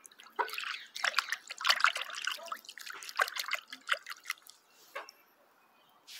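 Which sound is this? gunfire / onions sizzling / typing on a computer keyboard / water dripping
water dripping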